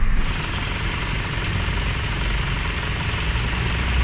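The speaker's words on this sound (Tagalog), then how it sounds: "narinig ko yung aircon niya or compressor magnetic gumana" A car's air conditioning compressor runs steadily with its magnetic clutch engaged, a continuous low mechanical drone and hum with engine vibration underneath, loud and even throughout with no talking.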